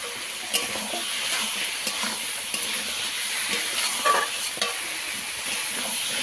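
Fried eggplant stirred into a spice masala with a little water sizzles steadily, with spatula scrapes and clinks over a constant hiss and no voices.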